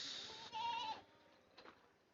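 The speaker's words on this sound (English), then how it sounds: "This is a goat farm that is now hosting nearly" Goats and sheep on a goat farm near Malegaon, Nashik district, give a short, faint bleat followed by a softer call, heard at a distance against quiet farm background.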